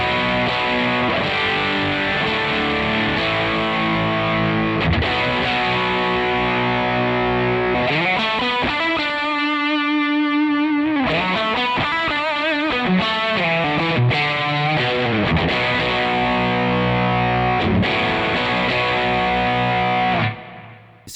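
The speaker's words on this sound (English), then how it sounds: "let's turn up the amount of fuzz to increase the gain." Thick, heavily distorted electric guitar through a Great Eastern FX Co. Focus Fuzz pedal with gain turned up, driving sustained chords, loud and saturated throughout, with a brief thinner passage in the middle before the full fuzz returns.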